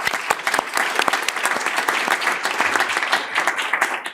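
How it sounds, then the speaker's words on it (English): A workshop audience on artificial intelligence claps in steady, dense applause that holds for several seconds, close and even, with no talk over it. "I might even call on you to give a round of applause."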